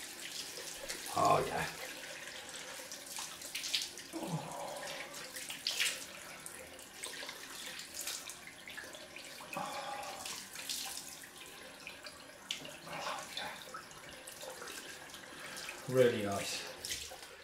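A tap runs in short bursts for a cold rinse after a head shave, with water splashing in a sink between pauses and someone speaking briefly over it.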